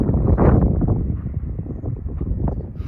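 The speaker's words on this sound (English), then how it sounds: "Well, it's a windy one" Strong wind buffets the microphone beside a high alpine lake above 11,000 feet, giving a low, rumbling, gusty roar that rises and falls close up.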